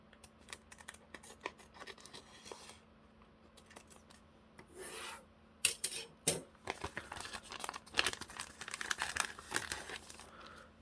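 Thin plastic bag packaging around a UV protection face mask crinkles and rubs close up, quiet at first and then in louder bursts of handling.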